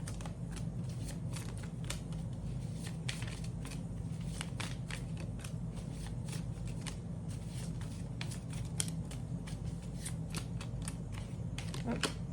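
A deck of tarot cards being shuffled and drawn, a steady run of quick, crisp card riffles and flicks repeating close to the microphone over a low background hum.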